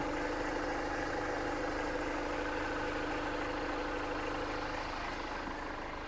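An Opel Movano L3H2 van, a 2021 model, idles at a steady, even hum with a faint mechanical knock running underneath, with no one talking.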